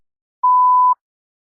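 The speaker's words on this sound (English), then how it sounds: "You may begin to prepare your response after the beep." A single clean electronic tone at about half a second, steady and loud, from the prompt of a TOEFL speaking practice test, with silence before and after.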